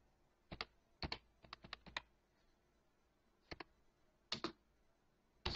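A command is typed on a computer keyboard for Windows Server 2003 in quick, quiet clusters of keystrokes separated by short pauses, close and alone.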